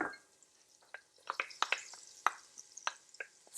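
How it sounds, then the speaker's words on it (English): Carrots and celery hit hot butter in a pan, giving a soft sizzle punctuated by a string of sharp clatters and scrapes as the vegetables are stirred, close and fairly quiet. "All right, so the butter is ready. It's sizzling. Let's pour in our ingredients."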